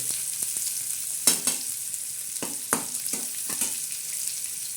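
Onion frying in a pan for spicy sev bhaji, crackling with a continuous sizzle and several sharp stirring scrapes at irregular moments, close up and with no voices.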